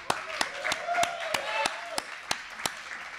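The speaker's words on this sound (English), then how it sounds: "Round of applause, everybody." A small audience at a Nashville live concert gives scattered, sparse applause, a handful of sharp distinct claps spaced out over a few seconds, with murmured voices and cheering underneath.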